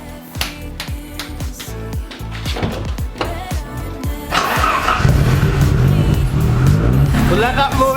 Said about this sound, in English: we'll try and start it again and just let it run